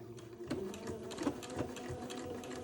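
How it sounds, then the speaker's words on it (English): A sewing machine runs a straight stitch along the folded edge of a fabric casing for a baby garment, a steady close mechanical whir with faint rhythmic needle clicks. "I'm going to use a straight stitch, and I'm going to sew right along the edge of the fold of the"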